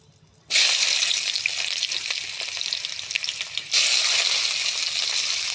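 Chopped onion dropped into hot oil with nigella seeds and bay leaf for a fish and potato curry, bursting into a loud, close, steady sizzle with crackles, easing briefly before surging again.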